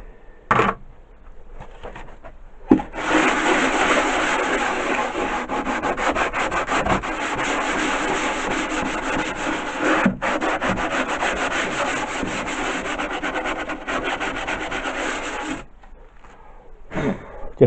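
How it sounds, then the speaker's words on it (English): Sandpaper rubs steadily back and forth over a miniature 1:12 scale wooden banister for a Tudor dollhouse, a close, continuous scratchy rasp lasting about twelve seconds, with brief handling noises before and after. "Just a light sanding is all that's necessary."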